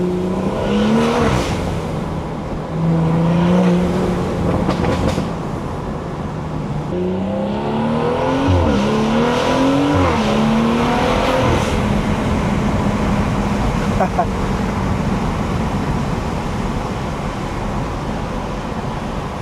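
A loud, close stage 2 tuned BMW B58 engine revs hard and climbs through several gear shifts, each rise cut by a brief drop in pitch.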